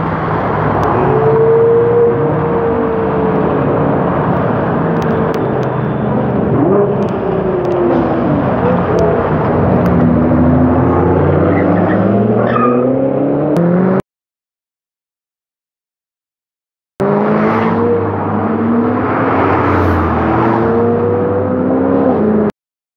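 Several cars on a group drive roll into town, with a steady engine and road rumble that rises and falls as they pass, cutting out briefly before resuming.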